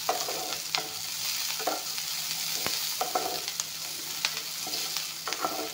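Onion, garlic and five-spice seeds sizzle in a hot pan, a constant close fry broken by repeated scraping strokes of a stirring spoon.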